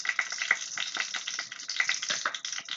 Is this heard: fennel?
yes